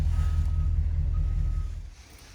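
A mobile library vehicle's proximity alarm sounds as a steady tonal beep over a loud low engine rumble, both fading out near the end of a short stretch.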